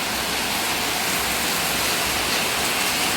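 Heavy monsoon rain pours steadily during a red alert in Kasaragod, Kerala, a dense, unbroken roar of water close by that stays loud throughout with no pauses.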